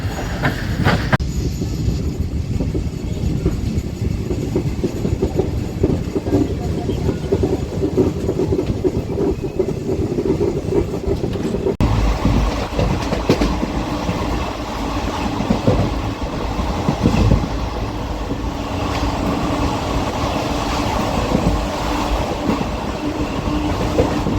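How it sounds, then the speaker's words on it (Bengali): A train travelling from Kharagpur to Khemashuli in West Bengal rumbles steadily throughout, with loud, continuous wheel and carriage noise and a shift in tone partway through as the run carries on, with no voices. "খড়গপুর থেকে খেমাশুলি পর্যন্ত ট্রেন জার্নিটা তোমাদেরকে ফোনেই দেখাচ্ছি"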